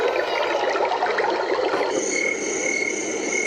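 A white noise machine playing its brook setting gives a steady, continuous trickle of flowing water, with a faint high tone appearing partway through, heard alone at close range.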